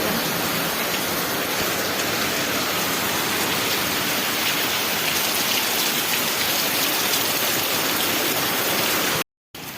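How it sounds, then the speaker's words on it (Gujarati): Steady, dense heavy rainfall at night in Kutch, Gujarat hisses loudly and continuously with no voices, cutting off briefly near the end. "આપણે કહેતા હતા ને વરસાદ નહીં આવ્યું પણ આવી ગયું"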